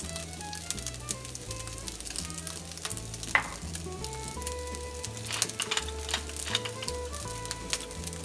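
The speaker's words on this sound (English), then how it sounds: "I've been stir frying this for a little bit" Egg fried rice stir-fries in a hot pan with a continuous sizzle, while two spatulas tap and scrape busily against it over background music.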